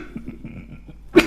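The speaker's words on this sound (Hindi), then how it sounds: "मैं अभी वायरल से पीड़ित हूँ, इस कारण से खांसी आ जाती है" One sharp, close cough from a man suffering a viral illness bursts out at the end, after a stretch of soft, low murmuring breath sounds.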